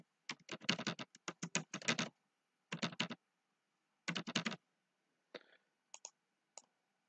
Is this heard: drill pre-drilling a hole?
no